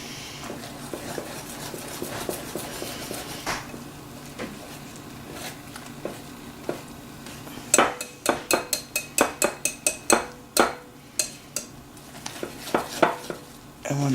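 A whisk or spoon stirs flour into a milk mixture for popover batter in a bowl, a run of quick, sharp clinks and scrapes that grows busier and louder toward the end, close by.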